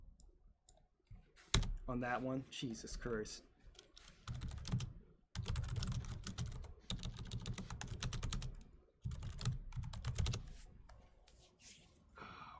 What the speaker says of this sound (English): Because I'm typing V in constantly